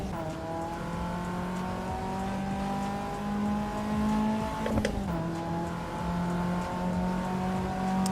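A race car in Assetto Corsa Evo holds a steady, buzzing engine drone through a corner. Pitch shifts a little as the throttle is modulated, and a quick tire scrub and bump come partway through.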